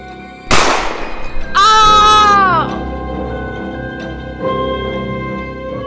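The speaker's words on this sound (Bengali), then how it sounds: "তারপর আরও একটা গুলির আওয়াজ" A cartoon ghost story's gunshot effect: one sharp, loud bang, then a high, wailing cry that rises and fades, with a low background hum behind it.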